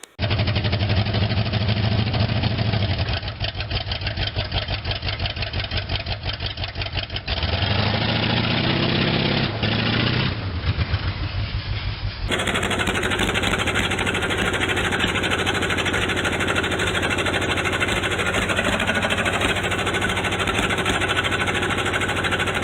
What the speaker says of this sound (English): It's running way better after that little dirt burnout.